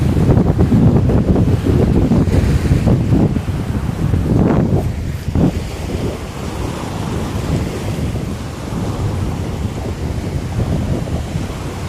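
Ocean waves roll in and wash onto the shore, a continuous, loud, broadband surge mixed with heavy wind buffeting across the microphone, steady throughout with no voices.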